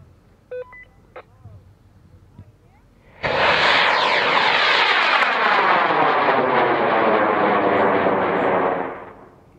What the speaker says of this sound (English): flying on a K560. Launching in 5, 4, 3, 2, 1, ignition.